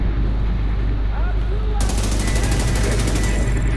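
Rapid automatic gunfire from The Division 2 on PS4 bursts in after a quieter stretch and rattles on fast and loud to the end.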